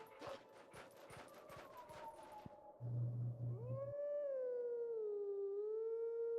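In The Legend of Zelda: Twilight Princess, a wolf gives a single long, wavering howl after a stretch of rapid footsteps and clatter, loud and sustained to the end.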